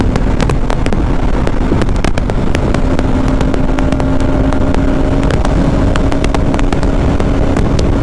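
A Bajaj Pulsar NS200 motorcycle accelerating hard at full power from standstill toward 100 km/h, its engine roaring loud and close with a rising tone, buffeted by steady wind noise throughout.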